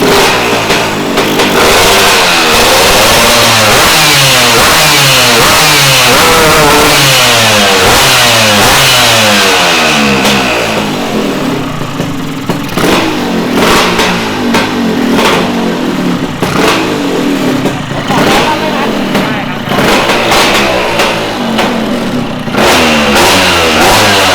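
A loud, small racing Vespa scooter engine revs hard and continuously, its pitch sweeping up and down in repeated bursts close by, with no voices.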